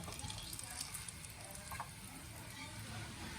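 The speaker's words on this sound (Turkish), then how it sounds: "Ondan sonra etimizi bunun yağına bırakıyorum." Meat sizzling in rendered fat left from cracklings while making Gaziantep şiveydiz, a steady close frying hiss with faint crackles running throughout.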